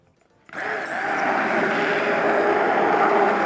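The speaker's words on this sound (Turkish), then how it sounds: "Yine blenderımın da en yavaş ayarına geldim." A kitchen blender on its lowest setting whisks potato cheddar soup, switching on abruptly after a brief quiet and then holding a loud, steady whirring hum close by.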